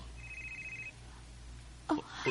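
A telephone bell trills in a steady ringing burst early on, fairly faint over a low steady hum, followed by a couple of louder knocks or clatters near the end.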